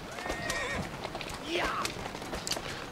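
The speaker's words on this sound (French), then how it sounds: "Ça, c'est les carrioles les plus rapides. Parce qu'elles sont qu'à cheval." A small horse-drawn carriage in the video game Assassin's Creed Syndicate rolls by with clip-clopping hooves and a clear horse whinny, heard over a person talking.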